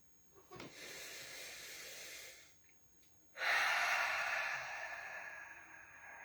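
Slow, deliberate breathing of a stress-calming exercise: a soft inhale, a pause, then a long, louder hissing exhale close to the listener.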